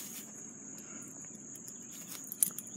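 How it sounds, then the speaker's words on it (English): Crickets chirp steadily with a thin, continuous high trill, fairly faint, over a low background murmur, with a few brief louder ticks near the end. "Oh man, there's crickets everywhere."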